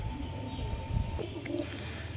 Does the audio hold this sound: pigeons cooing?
yes